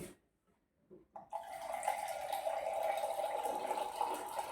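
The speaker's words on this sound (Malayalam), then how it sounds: "ഫിൽറ്ററിനകത്തുനിന്ന് വെള്ളം എടുക്കുന്ന കേട്ടോ" Water runs from a household water filter tap into a cup in a kitchen, a steady continuous pour that starts after a short near-silent pause and carries on to the end.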